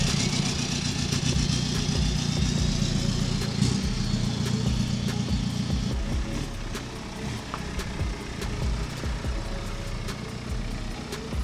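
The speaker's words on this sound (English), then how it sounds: "Let's take this car for a drive." BMW E82 120d M Sport manual coupe with a straight-pipe diesel exhaust, a loud steady engine rumble running throughout as the car drives, with road noise and no talking.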